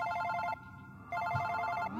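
A telephone rings with a clear electronic ringtone, two close bursts separated by a brief pause, loud and alone with no talking.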